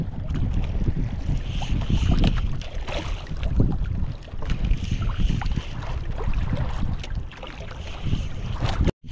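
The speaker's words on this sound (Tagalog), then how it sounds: "Hangin na, hangin." Strong gusting wind buffets the microphone, with choppy water slapping a small boat beneath it, steady and loud throughout.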